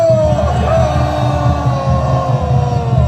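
A rally crowd outside the Constitutional Court shouts in unison, a loud massed roar of voices with sustained tones layered over a steady low rumble.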